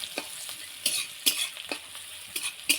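Chopped onion and garlic fry in a pan while a spatula stirs them, sharp scraping strokes recurring every half second or so over a low steady sizzle.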